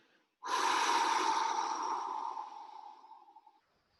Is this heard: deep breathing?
yes